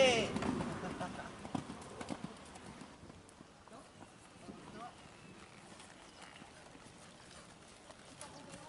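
A horse canters around an equestrian centre riding arena, hoofbeats soft and fairly distant in a quiet space, with an instructor's voice heard over them at moments.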